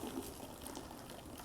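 Cold water is poured from a height into hot wort for a honey summer ale during home brewing, giving a steady close splashing pour with no speech.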